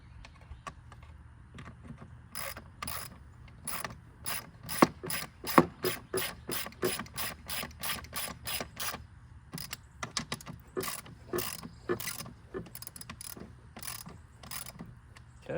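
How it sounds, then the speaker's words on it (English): Hand ratchet tightening a bolt on an abandoned ski boat being restored, a long run of rapid, crisp clicking strokes in bursts, close and fairly loud over a quiet background. "Alright, got my ratchet now."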